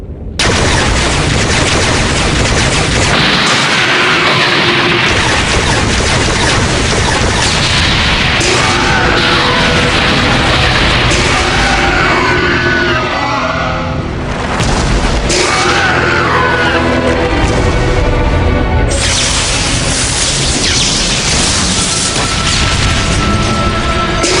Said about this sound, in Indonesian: Meriam 1200 mili sinkroton.